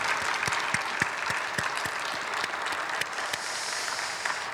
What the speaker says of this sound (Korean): 하나님께 박수로 영광 돌립니다.